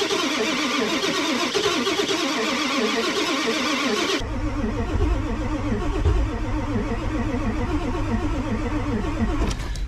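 A diesel engine, from a Detroit or 7.3 Powerstroke at -42F, cranks in a rapid rhythmic churn, its starter labouring steadily for the whole stretch, with a shift in tone partway through.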